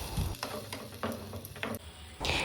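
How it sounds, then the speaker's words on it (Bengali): Chopped onions with fenugreek seeds frying in oil for a mustard okra dish, a steady soft sizzle broken by several stirring scrapes, close and moderately loud with no talk. "তারপর ওই তেলে ফোড়নে মেথি দিয়ে কিছুটা পরিমাণ কুচানো পেঁয়াজ দিয়ে ভালো মতো একটু লাল লাল করে ভেজে নিতে হবে।"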